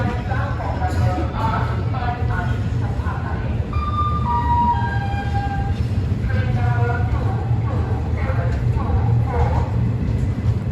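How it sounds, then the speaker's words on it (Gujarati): The Saurashtra Express pulls slowly out of Ahmedabad Junction with a steady, loud low rumble, while wailing, horn-like tones glide over it and voices murmur in the background. "ધીમે ધીમે ટ્રેન જાય છે"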